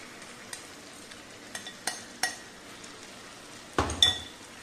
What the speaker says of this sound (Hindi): और मसाले के साथ हम इन्हें अच्छे से मिक्स कर लेते हैं।